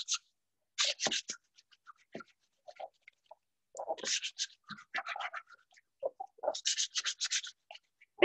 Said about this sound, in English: you're going to take a little bit of sandpaper and you're going to scuff it up